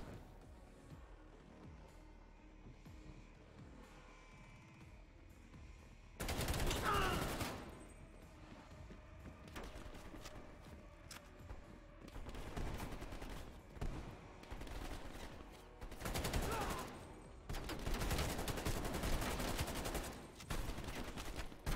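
Light machine gun fire in the Call of Duty Black Ops Cold War campaign, with loud sustained bursts of automatic fire alternating with quieter stretches of scattered distant shots and mechanical clatter.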